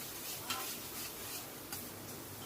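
Masala being stir-fried with small additions of chicken stock while cooking chicken, a steady soft sizzle with a few faint scraping stir strokes, fairly quiet and without any talking.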